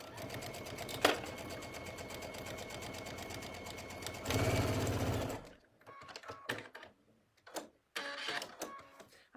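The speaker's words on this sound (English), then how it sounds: "I'm over here at my sewing machine" A sewing machine top stitches a round zipper pouch with a rapid, steady mechanical whir that runs continuously for several seconds, briefly speeds up, then stops and gives way to short bursts of handling and clicks.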